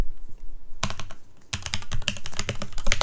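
Rapid, dense typing on a computer keyboard while writing code, a brief pause and then a longer flurry of close, crisp keystrokes.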